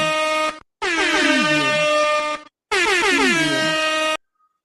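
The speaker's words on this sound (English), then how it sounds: "Y'all want an air horn?" An air horn sound effect blasts loudly three times in a row. The first blast is short and the next two are long, with brief gaps between them.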